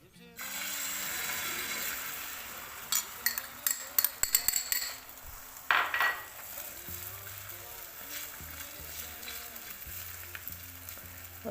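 Beaten egg seasoned with coriander, black pepper and salt poured onto a hot oiled tawa griddle, sizzling steadily close up with scattered clinks of a utensil against metal.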